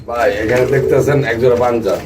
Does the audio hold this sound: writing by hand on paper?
no